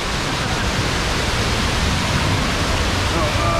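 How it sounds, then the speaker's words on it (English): A water feature at a water park squirts and splashes continuously, a loud, steady hiss of spraying water filling the space from close by. "Look at this little guy squirting out water."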